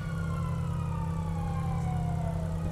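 A police car siren wailing continuously and loudly, its tone sliding slowly downward over a steady low engine rumble, with no voices.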